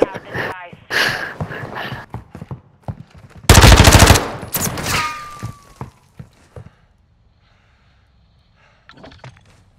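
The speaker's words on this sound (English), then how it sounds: "No, I heard a shot." Gunfire in Call of Duty: Modern Warfare II, a loud automatic burst midway among scattered shots and clanks, with players talking over it before the sound dies away to near silence.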